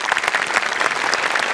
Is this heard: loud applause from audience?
yes